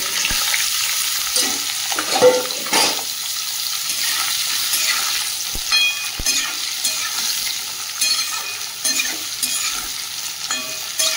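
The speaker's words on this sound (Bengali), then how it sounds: "সেদ্ধ করা এঁচোড় আর আলুটা ভেজে নেব।" Loud, steady sizzling of boiled jackfruit and potato frying in a pan, broken by spatula scrapes and knocks against metal as it is stirred, heard close.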